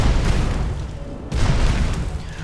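An arcane explosion spell in the video game Magicka, a deep booming blast with a rumbling roar, followed by a second heavy burst midway, loud and close with no talking.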